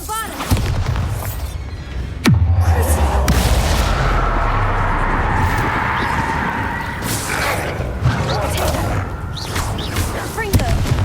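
The Bombardo spell explodes in Hogwarts Legacy as a sudden deep boom during a battle, followed by sustained rumbling combat noise, with a voice shouting over it.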